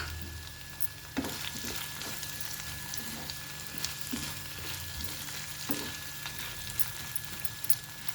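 Drumstick pieces frying in a pan for a Telugu tomato curry, a soft continuous sizzle with scattered gentle clinks and scrapes from stirring, no voices heard.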